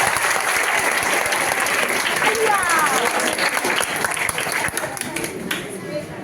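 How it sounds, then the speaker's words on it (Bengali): A school audience applauds steadily at an alumni-batch event at Khanpur H L Sarkar High School, a dense, loud, sustained wash of clapping from many hands that fills the room and thins slightly toward the end. "সবাই তাদের জন্য একটা হাততালি, জোরদার হাততালি।"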